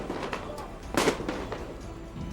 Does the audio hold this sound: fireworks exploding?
yes